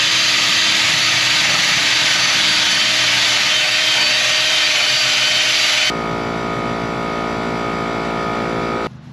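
A power wire brush scours rust from an old GMC TransMode truck chassis with a loud, continuous high-pitched grinding whir that suddenly drops to a lower, steadier motor hum near the end.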